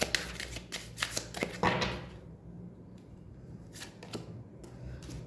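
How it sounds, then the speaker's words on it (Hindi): Tarot cards are drawn from a deck, with a quick series of close crisp flicks and shuffling rustles in the first two seconds, then quieter, with a couple of faint card taps. "एक कार्ड और लूँगी मैं।"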